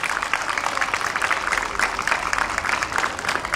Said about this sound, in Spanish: Un aplauso más grande para esta chica.